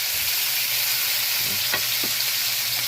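Tomatoes sautéing in a pan for a Filipino ginataang gulay, a steady loud close sizzle that fills the clip, with a few faint stirring scrapes and no talk.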